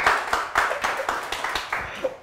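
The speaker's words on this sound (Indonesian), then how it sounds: "Tepuk tangan buat Mas Slamet Aryadi" A small group claps for a podcast guest, Mas Slamet Aryadi, in a brief, fairly sparse burst of hand claps with a roughly steady rhythm, close and moderately quiet.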